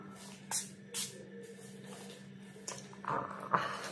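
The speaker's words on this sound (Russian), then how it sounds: "это спрей для тела получается" A few short hissing bursts of a body mist sprayer, spaced apart, close and fairly soft over a quiet background hum.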